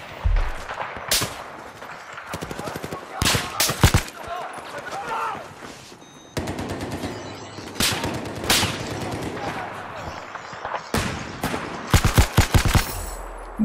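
Bursts of rapid gunfire in Battlefield 4 multiplayer crack out repeatedly in short volleys, loud and sharp, with someone talking between and under the shots.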